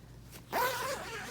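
A zipper is pulled closed on a baby swaddle sack made for the Snoo bassinet: one quick, close rasping zip over a quiet room.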